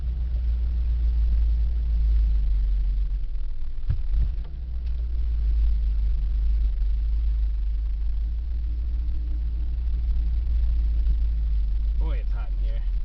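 The engine of a 1977 Dodge van rumbles steadily as it pulls away in gear, a low, loud drone heard from inside the cab with a brief knock partway through.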